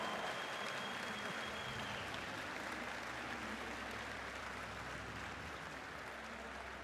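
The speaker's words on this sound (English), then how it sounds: "I think Tommy gets a round of applause, as does Ludwig himself." A concert audience at the Video Games Live show at gamescom 2017 applauds steadily throughout, a dense, even wash of many hands clapping with no talk over it.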